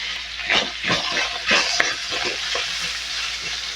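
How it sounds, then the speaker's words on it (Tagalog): Onion and garlic hit hot oil in a pan, giving a steady close sizzle broken by several louder bursts and stirring scrapes over about four seconds, with no voices. "Nagyan natin ng sibuyas sa bawang."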